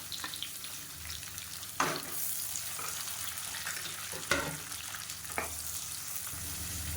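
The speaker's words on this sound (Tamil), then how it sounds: "எண்ணெயில் சேர்த்துட்டிங்கன்னா நல்லா வதங்கிடும்" Onions sizzle and fry in hot oil, a soft steady crackle with a few sharper stirring scrapes now and then.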